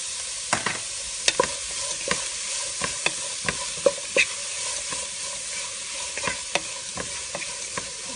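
Onions sautéing with salt in a pan for a Kerala chicken dish, a steady close sizzle broken by repeated sharp scrapes and clicks of a spoon stirring against the pan, with no voices.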